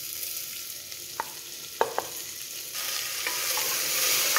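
Chopped tomatoes frying in a pan for a creamy tomato soup, with a steady sizzle building as they cook and a few sharp clinks of the spoon against the pan while they are stirred.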